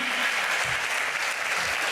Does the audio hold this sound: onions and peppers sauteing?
no